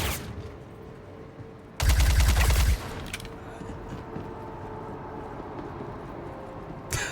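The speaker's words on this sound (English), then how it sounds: "Oh, a shotgun in my face." Rapid shotgun blasts ring out in the Star Citizen video game, a dense burst of loud booming shots for about a second over ambient game noise, with a sharper hit near the end.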